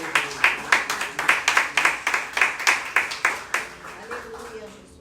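A church congregation clapping together in a fast, even rhythm of sharp claps with a few voices mixed in, loud and close, fading out toward the end.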